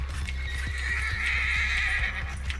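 A horse in the Red Dead Online video game neighs and whinnies over a steady drumming of hooves, loud and close, with a low rumble running under it throughout.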